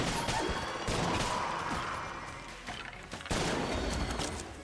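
Heavy gun in Enter the Gungeon that burns fifteen rounds per trigger pull fires in dense rapid bursts, loud crackling blasts and impacts layered with game effects, continuous with a fresh louder burst near the end.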